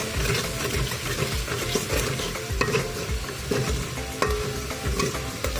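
Red chili powder, turmeric and salt sizzle steadily in a hot pan while a spoon stirs and scrapes through them, giving a continuous close frying hiss with soft repeated scraping.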